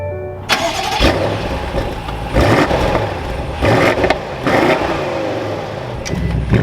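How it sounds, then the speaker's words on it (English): A 2023 BMW M850i xDrive coupe cranks and fires up, its engine catching loudly near the start and then rising through several strong revving blips with brief dips between them, close and without talk. "With my foot on the brake, we can fire this up."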